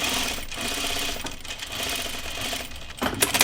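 A sewing machine runs a steady, fast stitch along a pocket edge for an easing line, continuous and close, with a short pause and restart near the end.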